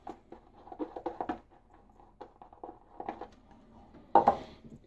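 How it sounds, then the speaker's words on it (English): A shaving brush lathers soap in a bowl for a second pass, giving soft irregular swishing and patting strokes that gather in a brief louder burst near the end, close and quiet with no talk. "let's lather up second pass"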